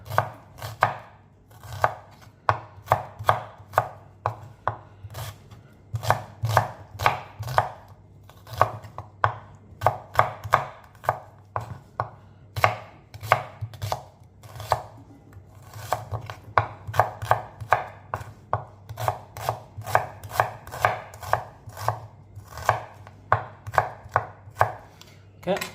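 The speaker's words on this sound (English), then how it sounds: "that's our onions all chopped up basically" Two peeled, halved onions being chopped with a knife on a board: a steady run of crisp, close taps repeating quickly and loudly throughout, with no talking.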